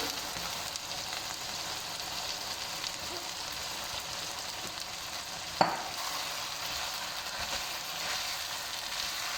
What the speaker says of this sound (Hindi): दो से 3 मिनट हम शिमला मिर्च की बुनाई करेंगे।